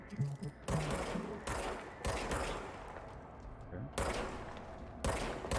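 Gunfire in the video game Control: several sustained bursts of rapid automatic shots, loud and close, with short pauses between volleys and a brief low voice at the very start.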